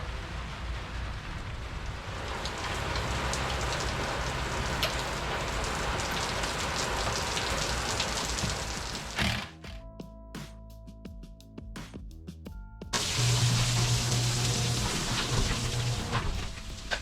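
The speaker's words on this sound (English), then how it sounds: "And it's raining." Steady rain pours down on a surface, broad and hissing, with a brief quieter stretch midway before the downpour returns at full strength.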